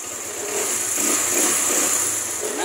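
The engine of a Kawasaki Rouser LS135 motorcycle runs after being fixed for a seized motor, a steady, fairly quiet hum with a faint rise in level, close by and without talk.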